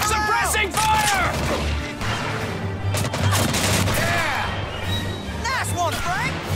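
Bursts of gunfire from a WWII combat video game, with rapid volleys and impacts running steadily under shouted voices and a music bed throughout.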